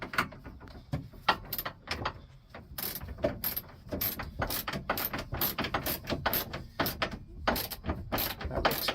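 A ratchet tightens fasteners while a wagon is being set up, a close run of quick sharp clicking strokes repeating steadily for nine seconds with no talk.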